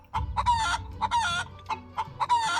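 A chicken sound effect clucks in a quick series of loud, nasal bursts, close and dry, four or five squawking calls with short gaps between, alone without talk.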